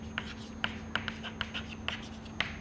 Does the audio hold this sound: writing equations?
yes